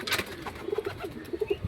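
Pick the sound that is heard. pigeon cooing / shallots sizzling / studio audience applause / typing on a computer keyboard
pigeon cooing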